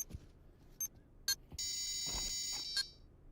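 A planted bomb in the VR shooter Pavlov VR beeps in short sharp chirps, followed by a sustained electronic tone, with faint footsteps and game noise around it.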